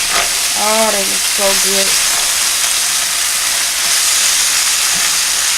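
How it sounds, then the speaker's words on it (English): Orange peppered chicken and brown rice stirred in a hot pan, giving a steady close sizzle and frying hiss throughout, with a brief spoken remark near the start. "I'm going to stir it up so you can see what it looks like."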